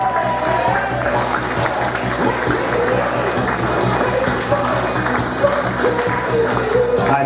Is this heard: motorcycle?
no